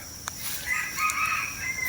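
A young rooster at a hill fowl market crows once, a drawn-out, strained call heard alone at moderate distance with no talk over it.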